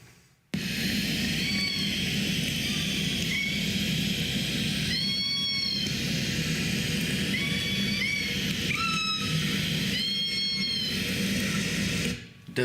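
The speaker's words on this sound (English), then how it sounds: "And then K-pod makes a sound like a mewing kitten," Underwater recording of K-pod marine animals giving repeated kitten-like mews. Several short pulsed calls arrive in quick pairs and clusters over a steady rumbling hiss.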